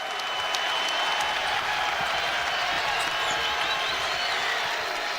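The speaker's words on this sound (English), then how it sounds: "Listen to the crowd. This crowd is into this game." Loud, steady cheering and roar from a crowd in a college basketball arena during an Auburn versus Saint Louis game, filling the whole stretch without a break, with faint sneaker and court noise beneath.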